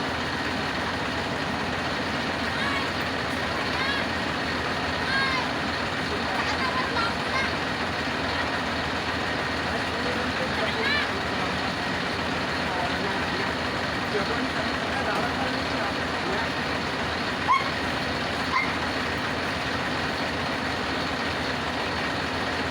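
A 173 tractor at a Lakshmi Puja, with a steady engine rumble running throughout at constant level and a couple of brief knocks near the end; speech is also present.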